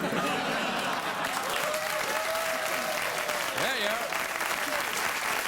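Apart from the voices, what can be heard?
studio audience applause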